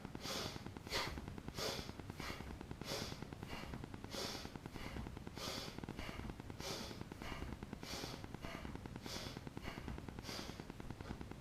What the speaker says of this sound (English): So inhale up the shoulders to your neck, to your ear bolts, and then drop down. Inhale up, exhale down.